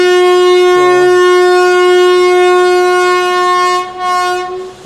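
The 56920 Vijayapura–SSS Hubballi passenger train departing Jardammakunti railway station, sounding a loud, sustained horn close by for about four seconds before it tapers off.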